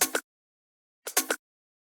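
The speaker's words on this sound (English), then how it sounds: "It's just this little percussion loop." Two short, crisp percussive bursts, each a quick cluster of light hits, are separated by about a second of silence.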